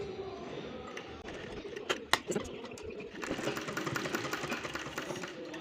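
A sewing machine stitches lace onto a dupatta with a soft, continuous mechanical whirr that grows steadier in the second half, while faint clicks and a pigeon-like coo sit in the background.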